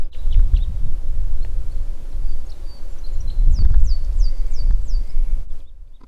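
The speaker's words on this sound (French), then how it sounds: "Je me suis arrêtée pour écouter un peu les oiseaux." Small birds chirp and whistle in a short run of rising-falling calls near the mountain shepherd huts, faint over a steady rumble of wind and rustling on the trail, with no voices.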